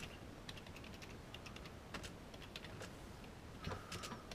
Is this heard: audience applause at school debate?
no